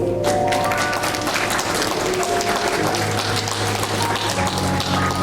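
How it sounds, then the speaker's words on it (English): Applause from an audience at a debutante ball, a steady dense clapping that fills the whole stretch at even loudness, with no talk over it. "at this time you should definitely give them a round of applause"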